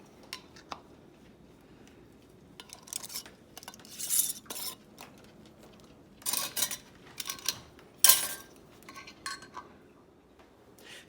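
Glass canning jars being filled and their lids screwed finger tight for a Presto pressure canner: scattered close clinks, scrapes and rattles of glass and metal with quiet gaps between.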